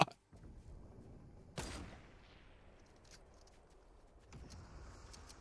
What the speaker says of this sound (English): That shot was extremely close, dude.